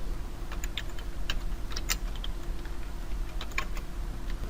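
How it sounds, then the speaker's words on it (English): Rapid typing of programming code on a computer keyboard, a quick irregular stream of close, crisp key clicks with no talking. "I'm going to type it out, and after I have typed it out I'm going to talk about that"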